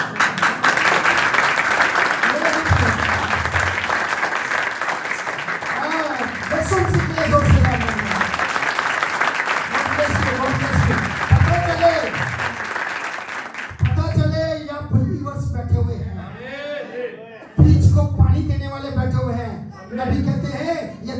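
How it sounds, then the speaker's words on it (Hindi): Congregation clapping during a church sermon, a continuous wash of applause that runs throughout while someone speaks loudly over it, with the clapping thinning out near the end. "तालियां या खुल के बजानी है या बिल्कुल ना बजानी"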